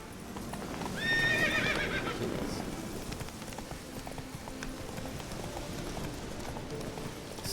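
A horse gallops and neighs in the video game The Witcher 3. A loud, close whinny rises near the start over steady hoof clip-clops that keep running on to the end.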